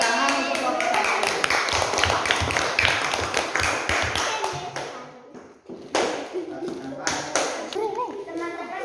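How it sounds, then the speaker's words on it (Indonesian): A class of children claps in quick, uneven rhythm, with chattering and brief pauses before the clapping picks up again. "tepuk tangan untuk kelompok 1"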